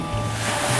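Surf at Air Hantu beach washes steadily with a broad, loud rush of waves, close and unbroken, with wind over the microphone.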